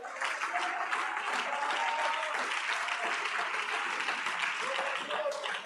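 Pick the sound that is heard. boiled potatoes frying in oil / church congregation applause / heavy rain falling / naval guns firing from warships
church congregation applause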